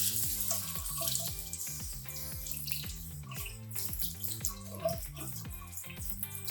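Water pours steadily from a tap over swimsuit fabric, a continuous close splashing hiss with irregular patters and drips throughout, and no speech.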